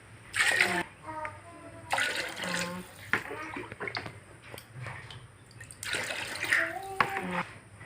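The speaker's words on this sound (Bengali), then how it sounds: "চালটা ভাজা হয়ে গেছে, পানি দিয়ে দিতেছি" Water is poured in bursts onto fried rice in a cooking pot, giving three splashy gushes with dripping and faint voices in between.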